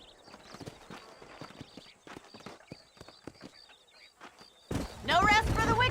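Horse hooves clip-clop in a rhythmic walking pattern in the Red Dead Redemption video game, moderately near. A sudden loud burst of sound at the end cuts over them.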